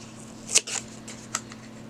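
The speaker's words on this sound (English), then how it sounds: "I'm going to remove the paper backing" Paper backing peeled off an adhesive strip on a 4x6 scrapbook album pocket, heard as a few short dry crackling rips close by with quiet gaps between them and no talking.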